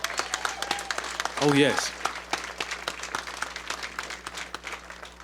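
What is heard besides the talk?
audience applause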